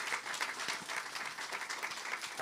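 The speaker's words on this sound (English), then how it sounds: "Can we give them a round of applause?" An academic conference audience at a university event gives a round of applause for the panel guests, dense moderately loud clapping from a room full of people that carries on without talk.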